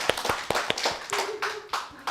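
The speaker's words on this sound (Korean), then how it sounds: "우리 한번 박수 한번 쳐드리죠." A small church congregation claps briefly for a woman who has just sung, with a handful of sharp, separate hand claps in loose rhythm and a brief low voice partway through.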